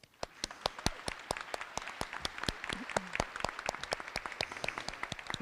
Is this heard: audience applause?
yes